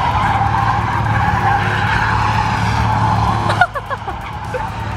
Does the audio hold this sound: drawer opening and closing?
no